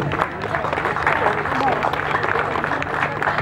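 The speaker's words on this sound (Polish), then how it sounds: "Gorące brawa" Applause from a crowd at an open-air awards ceremony for a river run along the Prosna, as the second-place runner receives his medal; steady clapping continues throughout, mixed with crowd babble and murmuring voices.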